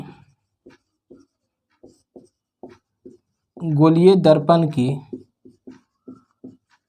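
Marker or chalk strokes on a board, a series of short scratchy writing sounds spaced across the clip, with a burst of talking in the middle.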